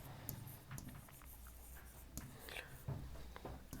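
Handwriting an answer for an English exam with a pen on paper: soft, continuous scratching and short strokes, faint and close, with no speech.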